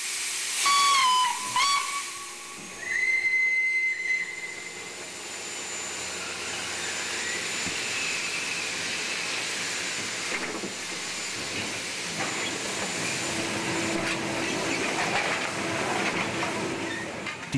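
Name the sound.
steam train hissing and whistling, Prince-Henri railway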